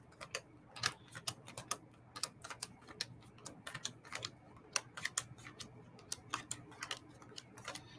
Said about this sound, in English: I'm going to do the magic card shuffle